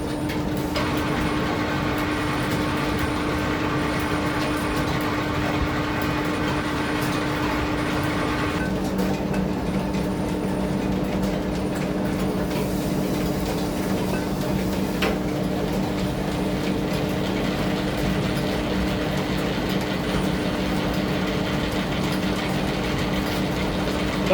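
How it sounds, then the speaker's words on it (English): A milling cutter works a keyway on a Victorian radial drilling machine, producing a continuous loud mechanical drone with a steady hum and a faint grinding, rattling texture that shifts slightly in pitch partway through. No one speaks. "First thing we're going to do is line up the cutter with this keyway and touch off in the bottom."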